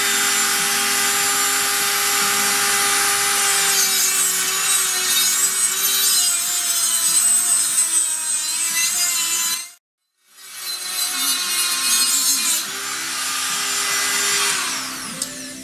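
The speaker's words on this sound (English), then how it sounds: "I've got this small Dremel type grinder. I'm going to get in here with that and see if I can fine shape this just a little." Small Dremel-type rotary grinder fine-shaping a part on a Honda VT600 project, a close, loud high-pitched whine with grinding rasp that shifts as it bites, pausing briefly before resuming, no talking.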